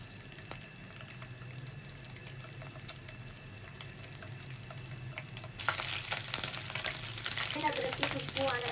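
Quiet kitchen ambience, then a spoonful of ginger garlic drops into a pan and a loud, steady sizzle of frying in hot oil takes over.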